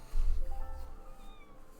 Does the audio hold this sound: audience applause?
no